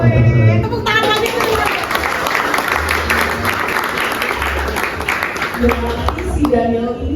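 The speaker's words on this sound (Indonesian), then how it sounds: "Tepuk tangan lagi." Audience applause at a book discussion event, a steady wash of clapping lasting about seven seconds with crowd murmur mixed in, fairly loud and close.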